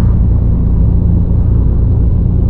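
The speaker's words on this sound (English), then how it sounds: "I think there's a car coming on the outside. I can hear it." In a bus-driving game, a car passes on the outside of a Setra ComfortClass S 519 HD coach, heard as a loud, steady low rumble of road and engine noise with no voices.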